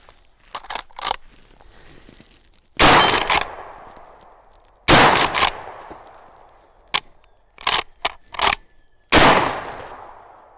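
Four loud, sharp gunshots from an 1886 Browning lever-action rifle chambered in 45-70, each followed by a short echoing tail, spaced a couple of seconds apart and interspersed with fainter clicks of the lever action.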